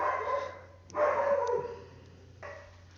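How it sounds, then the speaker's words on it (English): A pet dog barks three times at a distance, faint short barks spaced irregularly over a low steady indoor hum. "I see my dog is barking"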